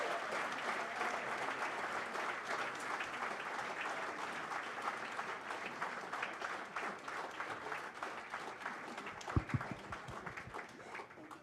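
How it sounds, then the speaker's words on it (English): Sustained audience applause at a 2015 county sports awards ceremony, steady dense clapping from a large crowd filling the room for the whole stretch, with a few louder sharp claps near the end. "Please keep clapping"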